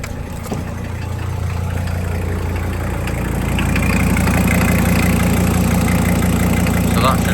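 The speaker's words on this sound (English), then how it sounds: "this has been idling for a good 15 minutes" A VW T4 camper van engine idles steadily after a new thermostat and coolant flush, a low continuous rumble close by that grows slightly louder midway.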